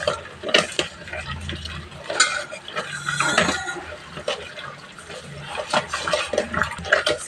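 Cooked white gongura leaves being mashed in a pot, a close series of squelchy presses and scraping strokes with occasional metallic knocks against the pot, with faint voice in the background.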